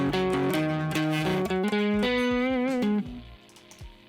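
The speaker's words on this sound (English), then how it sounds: "There's a little bit of reverb on there." Electric guitar played through an Axe-FX III modeler with reverb: a quick run of distorted, sustained notes rings out loudly, then stops to leave a soft reverb tail fading away.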